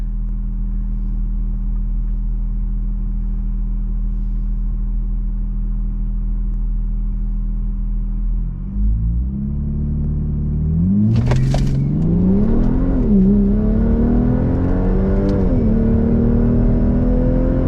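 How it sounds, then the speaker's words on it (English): A Volvo S60 T6, P3 Stage 2 tuned, idles steadily at a drag strip start, then launches and accelerates hard, the engine note climbing through gear changes as it races a Tesla Model S, loud and close. "I'm racing against a Tesla here."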